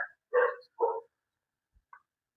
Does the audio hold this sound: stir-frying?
no